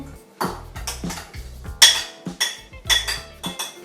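A spoon clinks repeatedly against a bowl while bulgur salad with Brussels sprouts and pomegranate seeds is stirred, giving close, bright, irregular knocks and scrapes with no talking.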